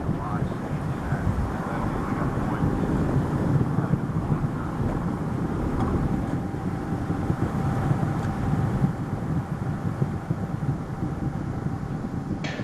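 Space shuttle Atlantis on its final launch climbs on its solid rocket boosters, a distant low rumbling roar that holds steady throughout with a broadcast commentary voice over it.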